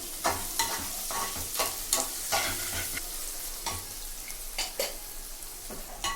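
Chicken fries in a pan with salt and turmeric for a chicken curry, hissing steadily while a spatula scrapes and stirs in repeated sharp strokes. Close and clear, with no talk.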